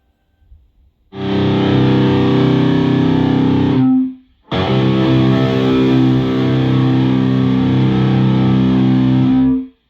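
Heavily distorted electric guitar through an EVH 5150 Stealth tube amp with V30 speakers, blue channel at maximum gain, rings out in two long sustained chords separated by a brief silence, loud and saturated.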